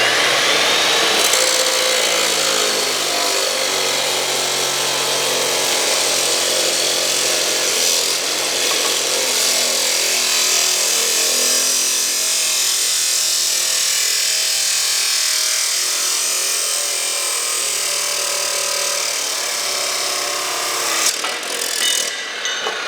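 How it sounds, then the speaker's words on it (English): An abrasive saw grinds through a piece of steel, a loud, sustained, steady cutting roar with a whining edge that holds evenly for over twenty seconds before briefly faltering at the end. "Now we'll cut the same piece of steel with our abrasive saw."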